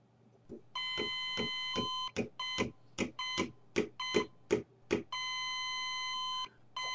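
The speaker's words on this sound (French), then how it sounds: "Pourquoi ça bip encore?" Electronic alarm beeping in the prison management game Prison Tycoon 2: a steady tone with bright harmonics, broken into a run of quick rhythmic beeps, then sustained again, over a low constant hum.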